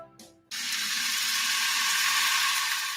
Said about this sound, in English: That's the sound of extremely tender and delicious beef from certified Piedmontese